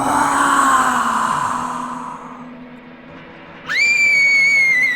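A woman's scream sound effect in a horror story starts as a long, loud, wavering shriek, fades to near silence, then breaks into a sharp, high, sustained cry toward the end, with no talking.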